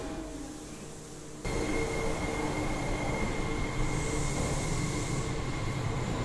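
A Tokyo metro train departs from a station platform. A quieter hum jumps to a loud, sustained rail rumble with a faint steady whine as the train gets under way, continuing to the end.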